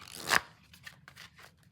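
A single short burst of tarot card riffling, followed by several soft, faint flicks and slides of cards.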